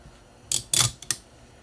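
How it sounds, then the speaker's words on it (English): Clamps are fitted and tightened onto the ends of a guitar's frets, producing three quick, sharp mechanical clicks and snaps close by in about a second, with no voices. "I'll just clamp it real quick"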